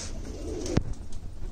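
A blue-ringed pigeon gives a single short coo nearby, over a low background hum.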